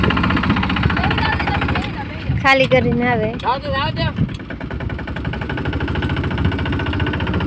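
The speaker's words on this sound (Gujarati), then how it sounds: "તો ટ્રેક્ટર જાય છે હવે ખાલી કરવા" A tractor's engine rumbles steadily as it pulls away to go unload at a farm where groundnut heaps are being moved, the motor droning throughout with people talking over it in the middle.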